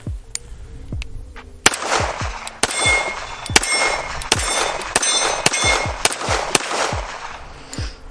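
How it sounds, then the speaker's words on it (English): Pistol shots from a Dan Wesson Valor 1911 fitted with Heine Straight 8 sights at a shooting range, a string of about fifteen sharp, loud, close reports fired at an uneven pace, with other shooters' fainter shots mixed in. "We're just gonna go ahead, shoot this gun"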